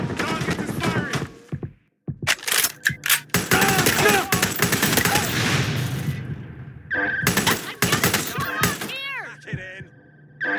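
Rapid bursts of gunfire from the video game Watch Dogs: Legion, with loud overlapping shots and volleys coming in dense clusters, brief pauses between exchanges, and game voices calling out amid the shooting.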